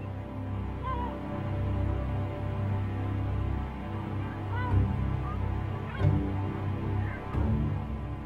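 Armenian gulls call by a lake, scattered honking and squealing cries rising over a steady low rumble, a few sharper calls standing out near the end.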